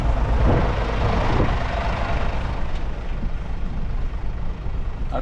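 A running truck idles nearby on a lot in Portugal, its loud low engine rumble continuing while the brakes are worked, with a brief hissing burst early on.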